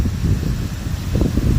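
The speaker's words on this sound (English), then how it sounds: "I noticed that then this big wind came" Strong early-morning wind during a hot, humid windstorm, a steady low roaring rush buffeting the microphone with gusty swells, loud and continuous without any talk.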